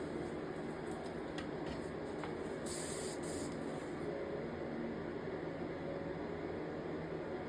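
Texture paint sprayed through a small stencil, a steady close hiss that runs throughout the clip, with a brighter burst near the middle and no talking.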